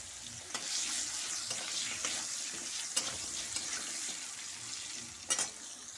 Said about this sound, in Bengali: আলুগুলো ভেজে দেব